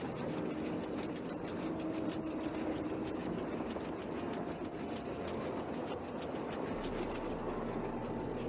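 A train runs inside a Nancy Drew video game, a steady rumbling rail noise with clickety-clack rhythm and faint steam-valve hiss, loud and continuous with no talking.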